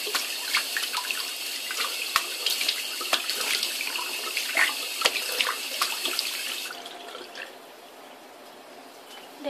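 Water runs steadily from a tap while a face is rinsed, a close, continuous splashing hiss with small irregular spatters, before the flow stops and leaves a quieter room.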